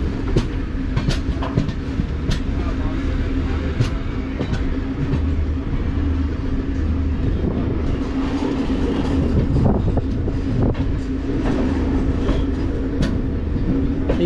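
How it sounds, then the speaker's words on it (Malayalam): The Marusagar Express sleeper train, running from Ernakulam to Ajmer, rolls into a station with a sustained close rumble and scattered clicking of wheels on the rails, steady and loud throughout with no talk. "ഇപ്പോൾ റെയിൽവേ സ്റ്റേഷനിലേക്ക് എത്തിക്കൊണ്ടിരിക്കുകയാണ്"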